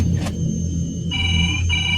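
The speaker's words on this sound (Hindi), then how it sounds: "फोन बजा" An electronic phone ring chirps twice, brief tonal bursts over a steady low background rumble.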